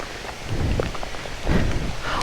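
Heavy rain falls in Thailand as a dense, steady hiss close by, with heavier swells of drumming on a surface and no talking.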